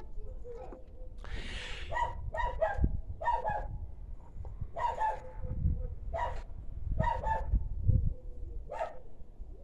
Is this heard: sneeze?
no